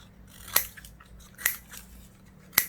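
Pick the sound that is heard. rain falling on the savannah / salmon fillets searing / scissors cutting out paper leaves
scissors cutting out paper leaves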